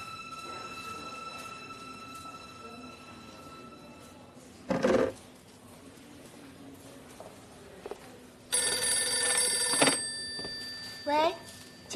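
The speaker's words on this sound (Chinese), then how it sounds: "请等一下，罗医师电话" A telephone bell rings in short bursts indoors, alone at first and then cut off as the line is picked up, with a brief voice nearby.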